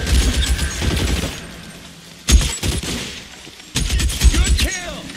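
Bursts of gunfire from the video game L.A. Noire, a heavy run of shots early, then sharp loud volleys after a pause, with a Thompson submachine gun in play and a voice talking over the action.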